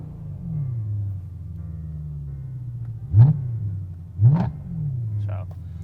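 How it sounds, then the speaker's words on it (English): BMW E92 M3 V8 with a Gintani tune and test pipes, idling deep and close, then blipped twice in quick sharp revs that crackle and settle back to a burbling idle. "And then let's do a rev to like 4."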